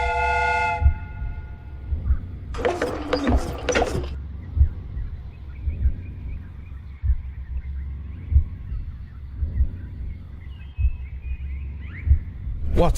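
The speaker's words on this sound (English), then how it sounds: "The steam whistle is ready to be used." A steam train whistle in the Sherlock Holmes: Crimes & Punishments game gives a short tonal blast and then a louder, harsher burst, followed by a quiet, rhythmically thumping mechanical background.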